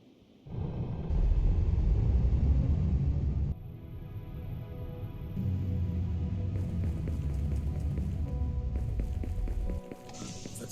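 Spacecraft lifting off in the sci-fi survival game Eden Crafters: a heavy low rumble swells in, holds steady, drops in level partway, then surges again with a rising whine before cutting out near the end.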